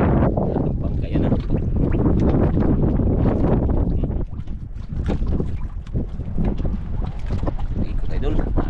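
Close, loud churning of a bangka fishing boat swinging around on the water, engine drone and rushing water blending with heavy wind blasts on the microphone for the whole stretch.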